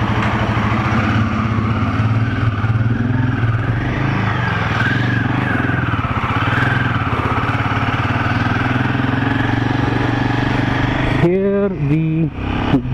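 A new Royal Enfield Himalayan motorcycle engine runs steadily on its first ride, a loud continuous mid-pitched drone with wind noise, while a voice speaks over it and a short rising-and-falling warble appears near the end.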